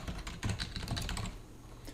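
Rapid keystrokes on a computer keyboard during office paperwork, a dense run of clicks for over a second that then trails off into quiet room tone.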